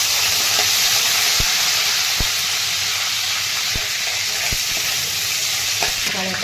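Garlic paste and coriander fry in hot oil, giving a loud, continuous close-up sizzle with occasional sharp clicks of a spoon stirring against the pan.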